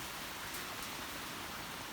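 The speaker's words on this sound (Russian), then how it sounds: "Сегодня у нас идет дождь." Rain falling on a 45-degree Click-Fold PRO metal standing-seam roof, a dense, steady hiss of drops pattering continuously and close, with no talking.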